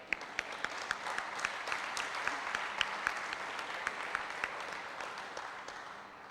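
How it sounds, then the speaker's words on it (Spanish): A large audience applauds at a formal electoral-tribunal event welcoming an invited guest: dense, sustained clapping with sharp individual claps standing out, steady throughout and without talk. "para quien les pedimos un fuerte aplauso"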